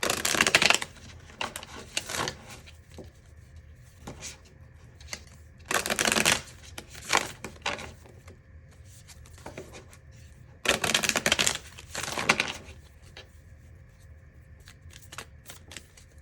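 Close, crisp riffle-shuffles of tarot cards in several quick bursts, each a rapid flutter, separated by quieter pauses with light handling sounds.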